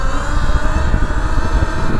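A KTM Freeride E-XC electric motorcycle riding uphill, a loud close steady drivetrain whine and rumble that holds constant throughout.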